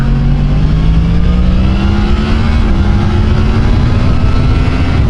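A Yamaha MT-10 SP motorcycle with a quickshifter accelerates hard, its engine note climbing steadily in pitch as the revs build, loud and close with constant wind and road roar underneath.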